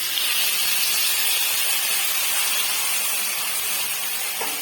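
Marinated banana stem dropped into hot oil, giving a loud, steady, close sizzle and hiss that holds evenly throughout without talk.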